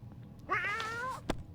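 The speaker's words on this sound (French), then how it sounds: "Alors, Charikov, pour ceux qui ne savent pas, c'est le chat." A cat named Charikov meows once in the survival video game 60 Seconds, a clear drawn-out meow followed by a short sharp sound.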